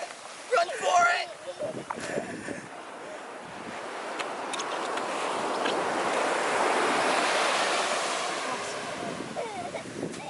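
Ocean surf rolls onto a beach in Puerto Rico, a broad steady wash of breaking waves that swells toward the middle, with wind buffeting the microphone and people shouting and talking nearby.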